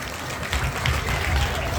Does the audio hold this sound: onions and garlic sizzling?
no